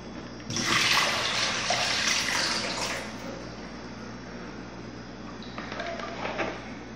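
Water from soaking cassava (aipim) is poured out, a steady splashing gush that starts loud and close, then tapers off, with a second smaller splash near the end; no talking.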